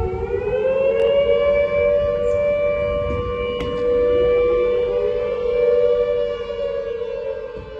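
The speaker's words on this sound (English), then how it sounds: "The sirens will be going off any second now." Flood warning civil defense sirens wail continuously across a flooded town, a loud sustained tone that rises and falls slowly and drifts as if from several distant sirens at once.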